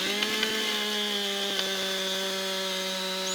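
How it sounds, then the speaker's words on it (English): A chainsaw cuts down a tree in Farming Simulator 19, a steady, sustained buzzing engine drone at constant pitch throughout. "Cutting these big trees with a chainsaw will take a long time though"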